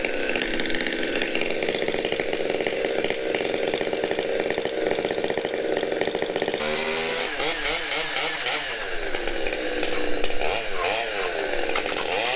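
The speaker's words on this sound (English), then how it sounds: "All right, let's get the chainsaw started." A chainsaw pulls to life and runs, a loud, buzzing two-stroke whine close by that shifts pitch midway as the throttle changes, revving up and settling, with no talking.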